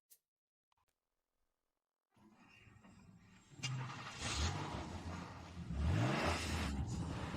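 A car engine catches after a couple of seconds of near silence, then rises into a louder, rougher run and revs as the car pulls away, close and without talk.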